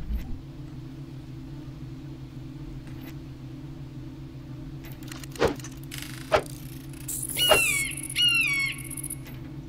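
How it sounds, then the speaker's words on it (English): Chirpy video game bird calls ring out over a steady low hum, a few sharp clicks first, then quick descending whistled notes near the end. "Birds on every planet make the same annoying noise."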